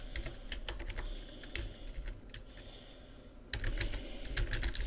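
Text being typed on a computer keyboard, a quiet run of quick, irregular key clicks with short pauses and a brief lull before another burst of typing, close and alone.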